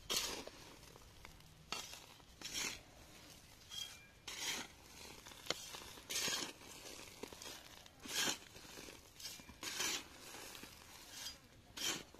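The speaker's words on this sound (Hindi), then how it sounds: "रुको मैं पहले ये पॉलीथीन को निकाल लेता हूँ" A polythene plant bag is pulled and torn off a capsicum plant, giving repeated crinkly rustling and tearing bursts at close range, with no talking.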